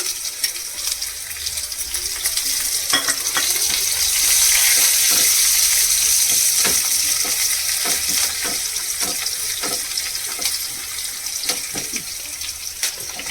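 Curry leaves crackle and sizzle in hot oil with garlic, a steady bright hiss broken by sharp popping spits, close and continuous with no talking.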